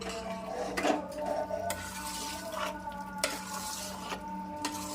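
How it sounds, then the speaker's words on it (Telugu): Melted jaggery being stirred into vermicelli payasam, soft scraping and swishing of a spoon around the pot with a few light clinks against the rim, quiet and close with no talking. "ఫస్టే బెల్లం కరగబెట్టి పెట్టుకున్నాం కదా అదే అందులో పోసుకోవాలి పోసుకున్న తర్వాత కలుపుకోవాలి"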